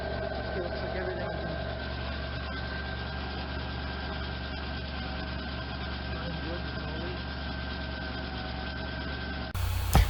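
A Dodge Caravan engine idles steadily after a fuel pump replacement, a constant low hum with an even drone throughout, ending in a brief bump at the close.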